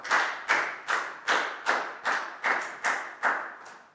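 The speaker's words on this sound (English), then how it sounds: "High five and a big round of applause for Lakgau." Rhythmic group clapping in a Year 4 classroom, about nine strong, evenly spaced unison claps roughly twice per second, close and loud with no talking.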